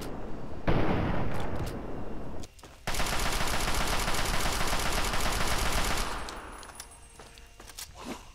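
Rapid gunfire from the Fallout 3 video game rattles in long dense bursts with a brief pause between them, loud and continuous, ending in a few scattered shots.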